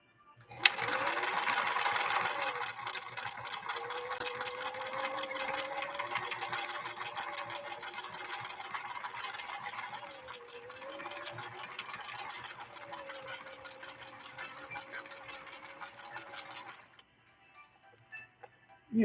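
A 1968 Singer Model 626 sewing machine runs steadily through a stretch blind hem stitch, its motor humming with a fast, even mechanical whir whose pitch rises and falls slightly for about seventeen seconds before stopping.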